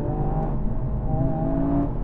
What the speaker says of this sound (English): It's all induction hiss and turbo whistle.